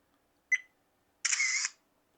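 A Dahocamgo 4K body camera snaps a photo: a short electronic click-beep followed moments later by a longer, bright shutter-like tone, both close and clean against near silence.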